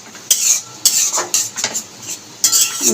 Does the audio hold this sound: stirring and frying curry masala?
yes